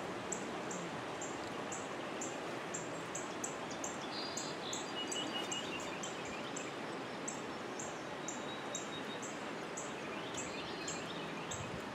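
Birds chirp in repeated short calls through a steady wash of rain and running water outdoors by a flooded lakefront in early morning, the calls fairly faint over the constant hiss.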